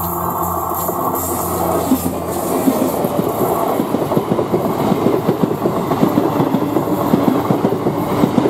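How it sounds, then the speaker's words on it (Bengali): A Purulia–Howrah MEMU passenger train rounding a station curve, loud and close, with continuous rumble and a steady clickety-clack of wheels over rail joints. "ট্রেন কিন্তু একবার কার্ভ নিয়ে পুনরায় আরেকবার কার্ভ নিচ্ছে"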